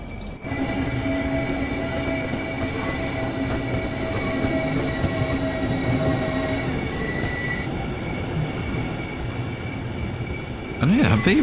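Class 395 Southeastern Highspeed electric train running in Train Sim World 3, a steady rolling drone with sustained motor whine and a brief wheel squeal near the end, close and continuous.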